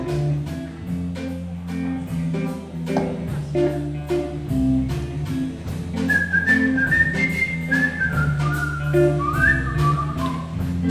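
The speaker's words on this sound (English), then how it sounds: "Is anybody else whistling along?" A swing band plays at a theatre show with strong, even beats while whistling rises over it, some of it sustained and some in sliding melodic phrases, growing more prominent in the second half.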